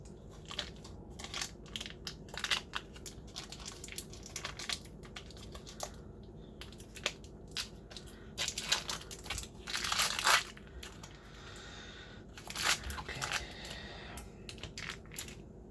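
Cream cheese is crumbled by hand into a salad, giving soft close crunching and crumbling noises in uneven little bursts throughout, with no talking.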